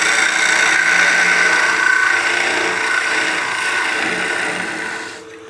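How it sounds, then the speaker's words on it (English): A gouge makes a bevel-riding cut into wood spinning on a lathe while an artifact pot is turned, a loud, continuous rasping hiss that fades slightly near the end before stopping abruptly. "I want to use a gouge to cut the majority of the opening because it's a bevel riding cut"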